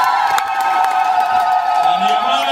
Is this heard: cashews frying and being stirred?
no